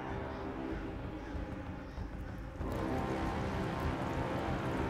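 Steady rain falls through a blood-red boss arena in the video game Black Myth: Wukong, a dense, even hiss that swells a little louder partway through, with no pauses.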